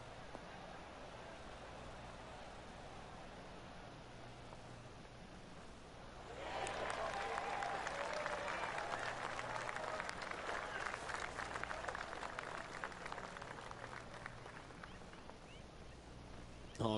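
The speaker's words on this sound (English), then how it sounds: "Oh, golf clap." Polite golf clap from a gallery crowd in a PGA Tour 2K21 round, starting suddenly partway through after a quiet ambient stretch and continuing as soft, steady patter at a moderate distance.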